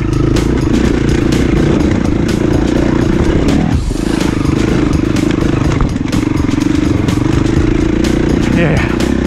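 Off-road motorcycle engine roaring close and loud on a wooded OHV trail, clattering over roots with a brief dip in revs midway, and a voice speaking over the ride.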